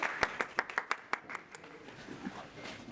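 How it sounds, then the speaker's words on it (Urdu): Scattered clapping from a small audience at a literary gathering: about eight sharp, distinct claps in a quick uneven rhythm, then trailing off into faint background murmuring. "آپ حضرات تالیاں بجا سکتے ہیں، تالیاں بجانے پر پابندی نہیں۔"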